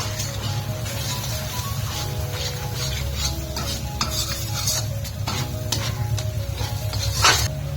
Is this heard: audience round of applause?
no